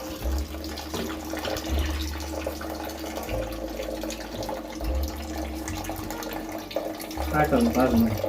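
Water pours steadily into a pot of dal for cooking, with a continuous splashing rush, and a voice briefly speaks near the end.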